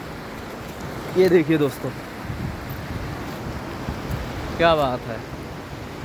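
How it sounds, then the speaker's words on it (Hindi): Water rushes through a slightly opened gate of the Gola barrage on the Gaula river at Kathgodam, making a steady broadband roar. Someone speaks briefly over it twice. "यही थोड़ा सा खुलने की वजह से इतना सारा पानी आ रहा है"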